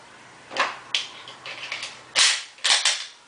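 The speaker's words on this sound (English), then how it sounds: "Put the .40 caliber barrel back in." A Glock pistol is put back together with its .40 caliber barrel, giving a series of sharp metallic clicks and snaps close to the microphone: a few scattered clacks, then two louder snaps near the end.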